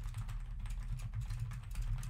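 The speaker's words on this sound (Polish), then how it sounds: "żebyśmy mogli usłyszeć, jak membranowa klawiatura aktualnie jest słyszalna podczas mowy" Typing on a membrane keyboard, a soft, steady patter of muffled keystrokes in quick irregular rhythm, heard close with no voices, picked up by a Blue streaming microphone.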